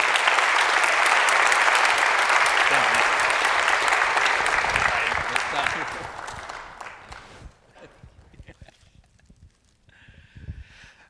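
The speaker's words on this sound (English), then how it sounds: "Please give her a round of applause for her time here" Applause from a concert audience at a university wind ensemble performance is loud at first, then fades over several seconds into scattered claps and quiet room noise, with a few faint voices near the end.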